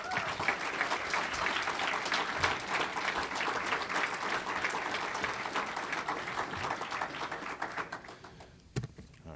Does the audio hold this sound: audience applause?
yes